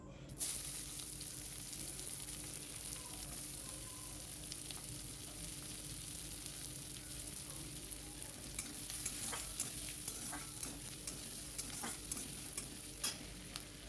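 Chopped onions fry in oil over a cumin and bay leaf tempering, giving a steady close sizzle with repeated scraping and stirring of a spatula against the pan throughout, and no talking.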